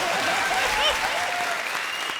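Brief, fairly faint applause from a studio audience on a Hindi comedy show, cheering three guests with light clapping under a faint tonal musical sting.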